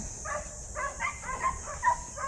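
A loose dog barks and yelps in a few short, fairly faint bursts at a distance on a rural farm with goats, with no one speaking.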